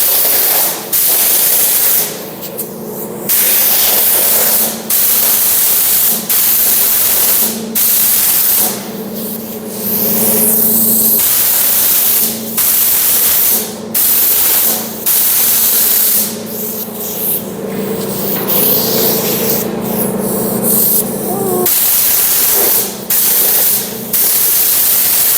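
Spray gun applying a light coat of paint to the inside of a car's driver-side fender, loud close hissing bursts in repeated passes of a second or two each, separated by short pauses, no talk.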